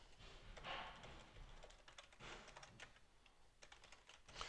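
Someone types a password on a computer keyboard: quiet, close clusters of rapid key clicks with short pauses between the bursts.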